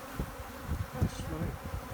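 Honey bees swarming inside a chimney, a close, steady drone of many wings humming continuously, fairly quiet, with small surges and no talk.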